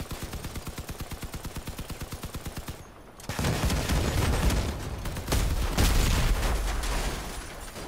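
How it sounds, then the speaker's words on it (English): Machine guns and rockets firing from a combat vehicle in Crossout: a rapid regular stream of gunfire, a brief pause, then heavy roaring rocket blasts layered over continuous loud shooting. "I got primary machine guns. And I got rockets."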